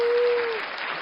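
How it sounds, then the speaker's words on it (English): A round of applause, steady dense clapping from a small audience lasting about a second, with a brief tone over its first half. "Round of applause."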